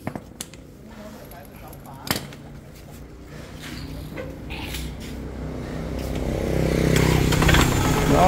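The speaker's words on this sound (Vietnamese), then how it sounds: "Nổ máy quay thử cho sếp lên quay thử thế nào." A machine's engine is started and run for a test at an equipment handover in rural Vietnam. A few sharp knocks come first, then a low mechanical rumble that grows louder toward the end, with voices nearby.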